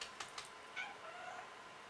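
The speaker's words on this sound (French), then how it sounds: "Vous avez entendu le petit miaou?" Gizmo, a pet cat, gives a few soft, brief meows at a distance, short faint calls over a quiet indoor background, with no talking.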